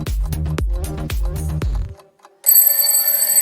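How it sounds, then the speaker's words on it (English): Rhythmic chiming tones play for a couple of seconds, then a short pause, then a bright bell rings out and shimmers steadily. "a shiny magic bell ringing softly on a snowy train."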